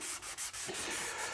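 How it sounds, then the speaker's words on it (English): Sandpaper rubs back and forth across a wooden guitar body during filling and staining work, a close, loud, hissing scrape in several quick strokes with short gaps between them. "It doesn't clog up nearly as fast as other sandpapers"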